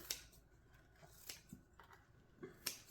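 Sewing scissors snip fresh clover sprouts in a quiet kitchen, giving a few faint, crisp cutting clicks spaced irregularly over a few seconds, with no talking.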